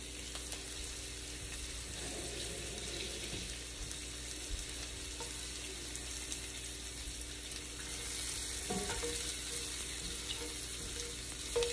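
Chopped onions fry in a pan for meat patties in gravy, giving a steady close sizzle throughout, with a couple of brief clinks of a utensil against the pan partway through and no talking.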